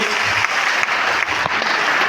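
Loud, dense applause rings out for young children at a Basaveshwara Jayanti ceremony and talent award event, a steady wall of many hands clapping for about two seconds.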